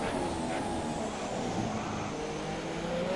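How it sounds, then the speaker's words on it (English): Engine of a Ferrari race car in a racing video game revving high as it climbs into third gear, a steady, loud, dense drone that holds without pause. "High revving is starting up into 3rd gear."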